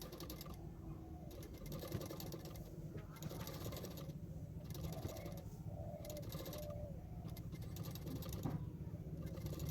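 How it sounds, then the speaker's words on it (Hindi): Domestic sewing machine stitching along the edge of extra fabric on a two-layer frock, a fast rhythmic mechanical whir in repeated short bursts, moderately close, with someone talking over it. "उसी एक्स्ट्रा फैब्रिक की किनारे किनारे पे और एक सिलाई कर दूंगी"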